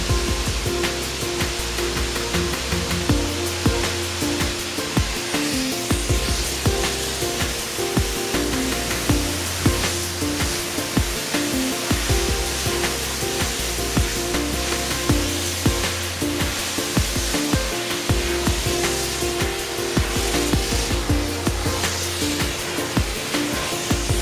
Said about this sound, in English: I will switch the machine back to rinse.